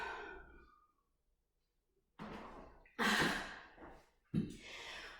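Heavy, ragged breathing after a Tabata workout set: a long fading exhale, a pause, then several loud, quick gasping breaths close to the microphone.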